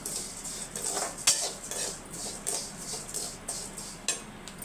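A metal spatula clinks and scrapes against a pan while vermicelli is dry-roasted, with soft, irregular taps and stirring strokes at close range and no talk.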